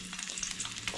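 Ginger sizzling in a small amount of cooking oil in a pan while preparing balbacua, a steady close frying crackle with light stirring across one second.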